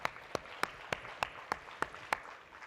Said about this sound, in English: so let's clap for each other again